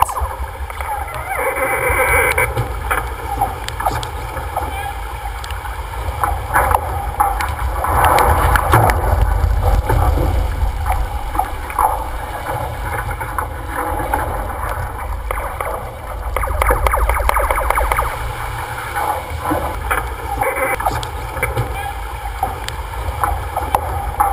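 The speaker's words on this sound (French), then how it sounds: "un beau départ au tas en régate" Sailboats jostle at a regatta start, with water rushing and slapping against hulls, wind gusting over the microphone, and a commentator talking over the busy on-water noise.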